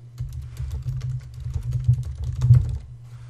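Quick, light keystrokes on a computer keyboard as an email address is typed in, a steady run of soft clicks over a low hum, with no talking.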